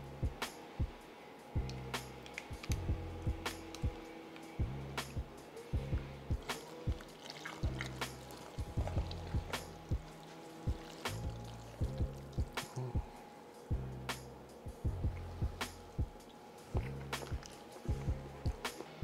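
Seafood mac and cheese mixture poured over noodles in a casserole dish, a thick wet sloshing with repeated glops and scrapes at a loose rhythm, close up and without talk.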